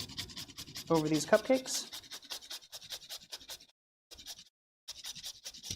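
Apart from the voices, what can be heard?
grating whole nutmeg with a microplane grater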